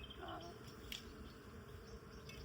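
Bees buzzing around a garden beside an old house in spring, a steady insect drone close by that holds at an even level through the whole stretch with no talk.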